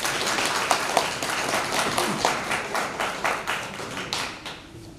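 An audience at a theatre reading in Dărmănești applauds with continuous, moderately loud clapping in an indoor hall, the sound gradually fading toward the end.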